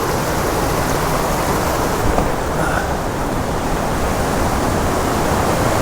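Small waterfall cascade on the San Rafael River in Antioquia, Colombia, a steady broadband rush of falling water that stays constant and fairly loud throughout, with no voices.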